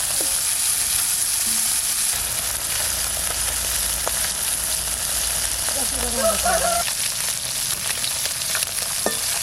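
Small morla fish frying in a pan, a loud, steady sizzle with occasional stirring scrapes and clinks close by, with faint voices briefly in the background.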